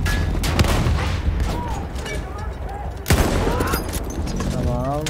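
Shotgun blasts in Battlefield 1 gameplay, several loud sharp booms among a dense, busy wartime mix, with someone talking over the action.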